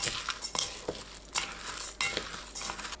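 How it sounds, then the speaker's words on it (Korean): Glutinous rice, beans and red beans being stirred together in an electric pressure rice cooker pot for five-grain rice, with a utensil scraping and clinking against the pot in several uneven strokes, close and fairly quiet. "전기 압력밥솥에 찹쌀, 콩, 팥, 밥 넣고 섞어줍니다."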